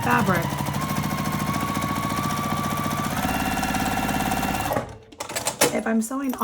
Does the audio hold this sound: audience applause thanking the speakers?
no